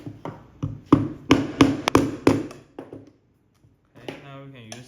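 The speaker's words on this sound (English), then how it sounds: "So we're just gonna use something like a hammer." A hammer taps repeatedly on a table while installing an XRV power kit, giving a quick series of sharp knocks followed by brief speech.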